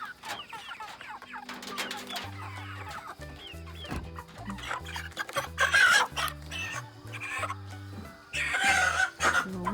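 Chickens cluck repeatedly, close and fairly loud, as they are moved to a borrowed truck for transport, with irregular bursts of clucking over a low, steady background hum.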